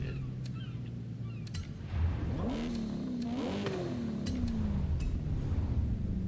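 A racing video game car fitted with a race exhaust revs up, its pitch sweeping up and falling back in a couple of swells over a steady idle drone, with sharp clicks scattered throughout.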